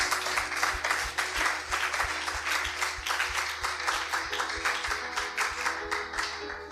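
A church congregation claps together in praise, a loud, fairly even wave of applause that holds steady throughout, with no one speaking over it.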